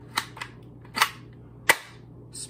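An M416 Orbeez gel blaster toy rifle fires several sharp, snappy shots spaced irregularly, close and fairly loud over a low steady hum, with no talking.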